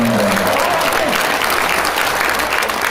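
A large crowd at a Korean YouTube coalition founding rally claps loudly and continuously, a dense, unbroken wash of applause from start to finish.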